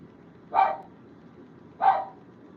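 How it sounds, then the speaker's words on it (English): A dog named Shadow gives two sharp, separate barks about a second apart, close and loud against a quiet background, with no voices. "Bark for confirmation."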